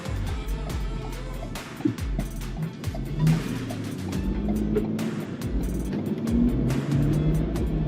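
A modified Ford Super Duty pickup accelerating from 0 to 50 in four-wheel auto, with a steady low engine drone and road rumble rising slightly as it speeds up, heard from inside the cab.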